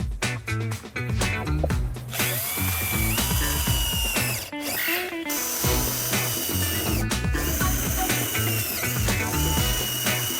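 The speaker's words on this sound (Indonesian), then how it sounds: "Lalu kita bor dengan mata bor ukuran 8 mili." Power drill boring holes with an 8 mm bit while fitting a fabric light box cover, a steady loud grinding whir running nearly the whole time with ratcheting mechanical clicks and brief dips in pitch as it bites.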